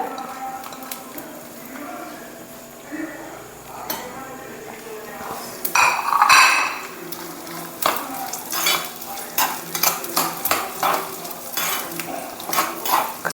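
Coconut frying in hot oil in a pan for jackfruit payasam, a close sizzle with repeated stirring scrapes and clinks of a metal utensil against the pan, louder in the second half, with a voice speaking at times.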